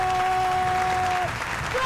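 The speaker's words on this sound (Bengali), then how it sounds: "এতে দুজনকে স্পেশাল তালি দাও প্লিজ" Audience applause at a science show staged by BITM Kolkata, a dense steady wash of many hands clapping together across the whole stretch, with a faint whistling tone riding over it early on.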